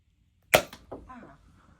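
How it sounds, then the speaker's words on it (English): An Adventure Force Cricket Pro toy blaster fires two darts at once, a sharp close snap followed by a softer rattling whoosh and faint tail sounds, with no voices. "test out doing the 2 bullets at once"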